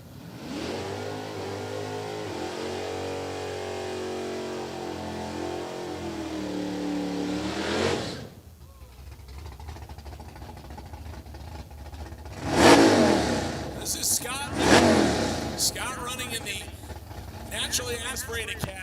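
A naturally aspirated FE Ford engine in a 1968 Mercury Cougar revs hard and climbs high in RPM at the water box of a Sick Week 2023 drag-racing event. Later, sharp loud engine blasts sound over the track's background noise.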